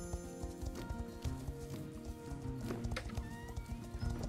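A horse in a video game whinnies while its hooves clip-clop in a steady, close rhythm, layered over continuous game music.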